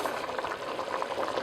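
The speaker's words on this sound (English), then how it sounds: "when I added the water to the rice, start boiling right away" Water boils and sizzles vigorously in a pot right after being poured onto rice for Lebanese-style molokhia with rice, a steady close bubbling hiss with no voices.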